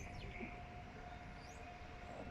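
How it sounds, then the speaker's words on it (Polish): A train on the Toruń–Bydgoszcz line passes near Łęgnowo Dolne as a steady, faint, distant rumble with a thin sustained whine on top, and no voices. "Już pociąg."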